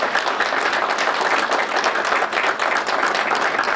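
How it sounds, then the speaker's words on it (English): Steady applause from an audience at a foundation's tenth anniversary event fills the room: dense, continuous clapping from many hands, loud and sustained without letup. "I hope that you will applaud with me Barbara's life work"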